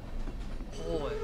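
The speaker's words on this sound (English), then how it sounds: "You can go by train somewhere, it seems like, huh? It's a train station." A train pulls into a station in the farming video game Stardew Valley, a steady rumbling rail sound that ends in a rising squeal of brakes or wheels.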